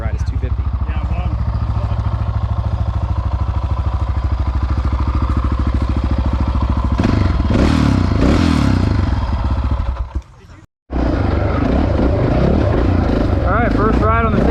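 Honda XR650R dirt bike engine on its first ride, a loud continuous thumping drone close up, with throttle changes and clattering partway through and a brief drop-out near the end.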